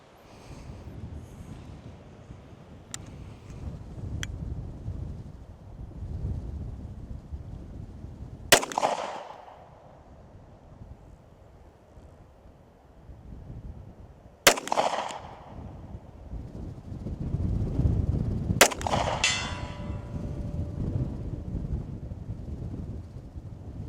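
Three sharp gunshots from an FNX 45 ACP pistol at an outdoor range, loud and widely spaced with ringing decay, under steady wind rumble on the microphone.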